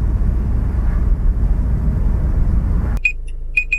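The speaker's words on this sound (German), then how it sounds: "Ich halte hier nur kurz an, um den Wecker auszumachen." Short repeated electronic beeps of an alarm clock start abruptly after a steady low camper van engine rumble, a pulsing alarm chirping in quick bursts near the end.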